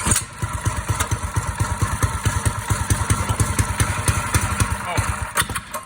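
A Predator 212 small engine with a stage kit, bench-built on a shopping cart, fires and runs from its first start with a steady, loud, rapid chugging pulse throughout, while a voice talks over it.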